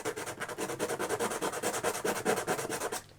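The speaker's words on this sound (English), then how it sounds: "Give them a good sand." Hand sanding of small pieces produces quick, rhythmic rubbing strokes, close and fairly quiet, repeating evenly back and forth until they stop.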